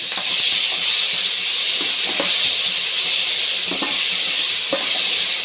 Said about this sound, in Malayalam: അതൊന്ന് നല്ലപോലെ അതിൻ്റെ പച്ചമണം വാടുന്നിടം വരെ നമുക്കത് വഴറ്റിക്കൊണ്ടിരിക്കാം.